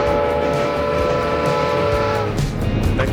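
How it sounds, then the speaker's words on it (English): Train sound effect played back, a sustained train horn or whistle with rumbling rail noise, loud and steady before fading near the end. "I'll play some train sounds"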